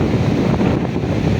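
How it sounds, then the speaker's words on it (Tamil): Strong wind buffets the microphone during a heavy rain and lightning storm in South Asia, a steady, loud roaring rush that holds for the whole moment with no voices. "இங்கே பயங்கரமாக காற்று இருக்குது."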